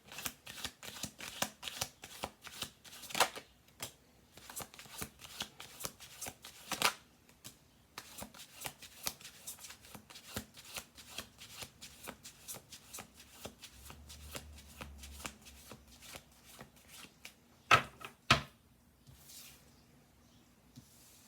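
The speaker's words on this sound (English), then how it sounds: "Okay, one more shuffle through." Tarot cards shuffled by hand, a long run of quick riffling and slapping bursts with short pauses between, close and fairly quiet, with no talk.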